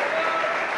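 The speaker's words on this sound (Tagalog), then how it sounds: "Okay, sige, palakpak para sa Ginoo." A church congregation claps for the Lord at a camp meeting, giving a short burst of dense, steady applause that fills the room without a break.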